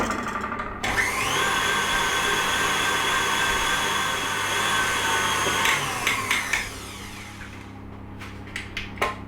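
A stand mixer whirring steadily at high speed while beating cake batter for Tottenham cake, a continuous motor whine that slows and stops near the end, followed by a few faint clicks.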